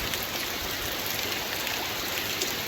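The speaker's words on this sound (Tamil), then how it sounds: "சரியான மழை, காலையிலேருந்து செம்ம மழை." Heavy rain falls steadily over flooded paddy fields, a dense, even hiss of drops close and continuous with no breaks.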